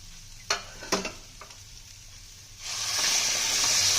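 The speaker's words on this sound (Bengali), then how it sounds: "এবার মাপ করে জলটা দিয়ে দেবো" A few sharp clatters, then a loud broad hiss rises and holds steady as water hits hot frying vegetables for vegetable pulao.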